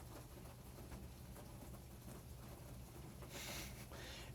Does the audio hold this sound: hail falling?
yes